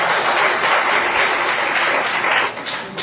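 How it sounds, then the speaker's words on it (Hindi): A church congregation claps together during a Hindi sermon. The applause is loud and dense, holds steady for a few seconds, then thins out as it fades. "ताली बजा के"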